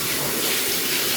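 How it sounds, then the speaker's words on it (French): Hands being rinsed under a running kitchen tap while cooking, a steady close rush of water splashing without a break. "Là, je vais rincer mes mains."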